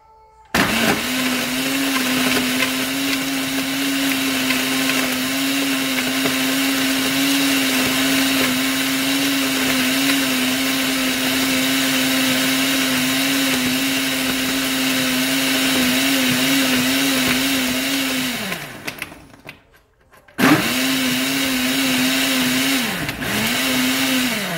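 A blender whirs loudly and steadily, mixing a SlimFast protein shake with non-fat lactose-free milk and ice, running for a long stretch before briefly stopping and starting again.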